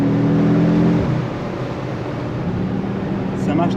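Interior of a 2021 Audi RSQ3 under hard acceleration, engine note climbing in pitch, then dropping at a gear change before pulling again, heard from inside the cabin.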